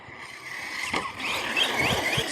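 An Arrma Kraton V6 RC truck drives in a park, its electric motor giving a short whine that rises in pitch as it accelerates, alongside light rolling and mechanical noise.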